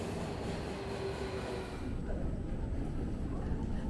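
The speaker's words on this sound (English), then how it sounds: "let's jump on the subway and continue on our way to the airport." A subway train in Japan heading toward the airport rumbles and rolls along the rails, a steady loud low drone with a brief whine early on, heard from inside with no talking.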